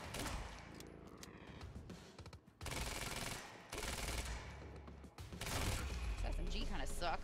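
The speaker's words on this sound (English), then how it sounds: "SMG kind of sucks, don't it?" SMG gunfire in the Quantum Break video game: several loud sustained automatic bursts with short gaps between them, close and dense, with a voice speaking under the shooting.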